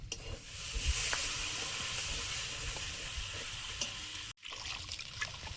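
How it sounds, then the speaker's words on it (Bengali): Water poured into a pan of frying spice paste whose oil has separated, for a fish curry with eggplant, producing a broad sustained sizzle and hiss that runs steadily, then briefly cuts out and resumes. "মশলা থেকে তেল ছেড়েছে, এবার জল দিয়ে দেবো।"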